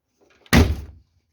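A replacement door on a VAZ 2101 Zhiguli being fitted and swung shut, giving one loud, close solid slam with a short metallic rattle that fades within half a second, after faint handling noises.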